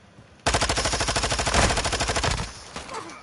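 Machine gun fire in the video game Warzone 2.0: one sustained burst of rapid, evenly spaced shots, loud and close, lasting about two seconds before trailing off.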